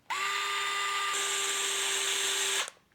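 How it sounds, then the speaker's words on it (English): An electric screwdriver drives screws into an Arrma Typhon Grom RC car, giving a steady high whine for a few seconds close by, then a brief clatter as it stops. "so now, yeah, we just have these screws to put on"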